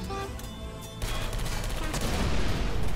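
Automated turret in Portal Stories: Mel firing, a dense rapid stream of gunfire that grows louder and continuous under game hum.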